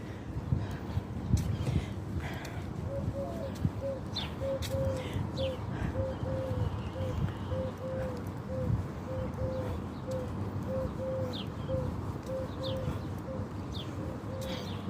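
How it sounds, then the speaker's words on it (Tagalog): Many birds call outdoors. A repeated soft cooing or chirping pattern sits steadily in the middle of a dense, noisy outdoor bed with scattered sharper chirps above it. "marami ding ibon"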